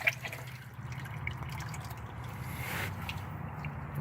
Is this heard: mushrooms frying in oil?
no